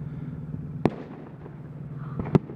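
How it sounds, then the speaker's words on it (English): Fourth of July fireworks watched from a rooftop, two sharp distant bangs about a second and a half apart over a low steady hum of the surroundings. "We're on the roof watching the fireworks."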